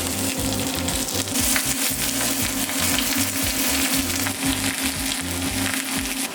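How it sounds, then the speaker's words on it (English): Steak searing in a hot pan just after flipping, a loud, dense, continuous sizzle close up with a low crackling rumble beneath, steady throughout with no talk. "Now it's time to flip it."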